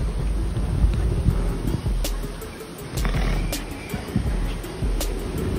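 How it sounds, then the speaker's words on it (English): Strong wind the day after Hurricane Ida, a loud continuous rumbling roar buffeting the microphone in surging gusts that rise and ease without pause. "Wind still blowing."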